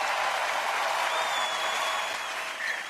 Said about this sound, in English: I think we need a minute for a round of applause.